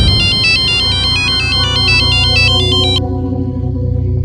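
An electronic phone ringtone plays a repeating high beeping melody over a low droning background, then the melody stops abruptly while the hum continues.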